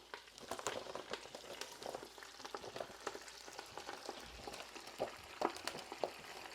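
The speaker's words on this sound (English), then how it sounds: "It's time to throw in the spinach. The spinach goes in right on top." Fresh spinach hits a hot pan with browned chicken pieces and sizzles steadily, crackling and popping in a dense close-up hiss with scattered sharper spits, and no talking over it.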